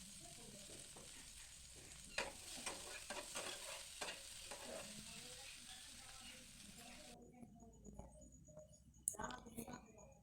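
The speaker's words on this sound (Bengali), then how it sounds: "ক্যাপসিকামটাকেও ভালো করে ভেজে নেবো" Capsicum stir-frying in oil in a frying pan, with a soft steady sizzle and intermittent scraping stirs and clicks at close range, quieter toward the end.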